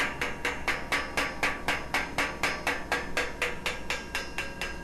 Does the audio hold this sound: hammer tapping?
yes